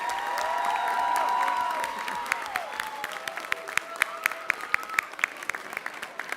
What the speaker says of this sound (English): Give a big round of applause to all the Woodrow students being recognized.